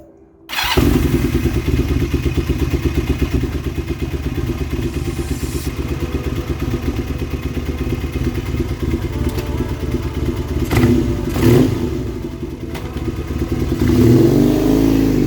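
A Kawasaki KZ440 custom classic motorcycle starts and idles steadily and loud up close, with its engine note rising in brief revs and a few clunks before throttling up toward the end.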